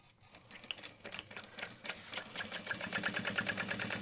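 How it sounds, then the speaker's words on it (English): Sewing machine top stitching along the side of a wristlet, a steady rapid mechanical chatter that builds and runs continuously, close and fairly loud with no talk. "So then I'll top stitch this side here."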